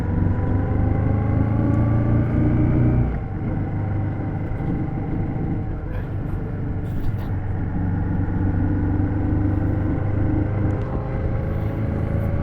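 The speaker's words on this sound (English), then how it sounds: "Big fan of this 650cc engine, and it sounds so nice with a nice exhaust system, some custom mufflers on it" A Royal Enfield Shotgun 650cc twin-cylinder motorcycle with custom exhaust mufflers runs close by with a deep, loud rumbling idle that rises briefly, then eases back to a steady lower throb.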